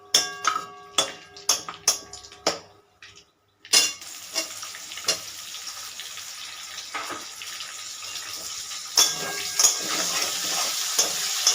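Whole cardamom pods dropped into hot oil for tempering a Sunday chicken kasha, giving a steady close crackling sizzle with a few sharp clinks and stirs, no voices.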